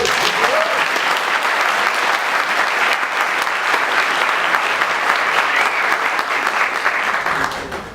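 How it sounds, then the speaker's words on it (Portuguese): An audience at a talk breaks into sustained applause, dense, loud clapping lasting several seconds before tapering off at the end. "Palmas, por favor."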